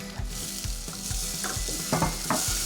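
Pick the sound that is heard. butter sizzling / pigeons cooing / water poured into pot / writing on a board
butter sizzling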